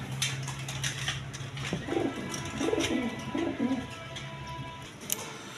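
Caged pigeons at a breeding farm coo in repeated soft, low phrases, several calls in a row, with light clatter and rustling around them.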